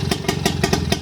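British Seagull 102 outboard motor running on its first run, cooled by a garden hose, with a loud, close, evenly pulsing chug of about five beats in a second.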